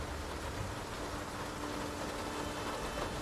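Steady rain in the noir detective video game Face Noir, a dense continuous hiss filling the scene at even loudness with no pauses, like a constant downpour on city streets at night.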